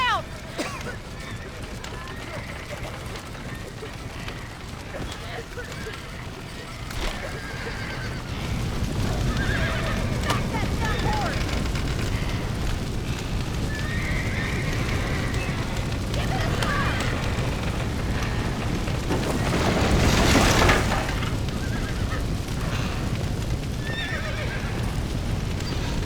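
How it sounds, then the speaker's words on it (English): Horses whinny and clop their hooves during a chaotic escape in the Western video game Red Dead Redemption, with the hoofbeats continuous and a loud neigh standing out near the end, all mixed with crackling fire-like noise and voices talking. "Now get the horses out!"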